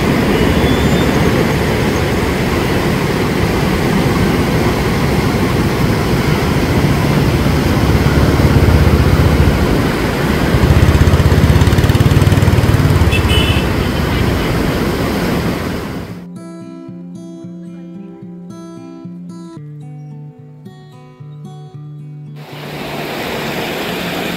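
The Indrayani river rushing through the rocky potholes at Kundmala waterfall near Talegaon Dabhade, a loud, continuous broadband roar that dominates for most of the stretch, then drops away abruptly to a much quieter scene before returning.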